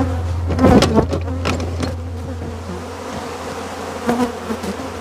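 A swarm of killer bees drones in a dense, continuous buzz close to the mic, swelling loudest near the start with occasional sharper rustles.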